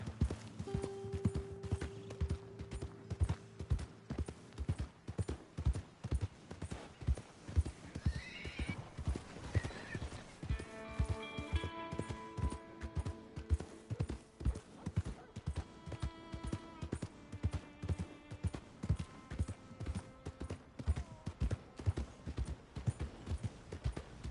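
Horse hooves in Red Dead Redemption 2 clip-clopping in a steady, quick rhythm throughout, with a horse snorting and whinnying and a tune playing underneath.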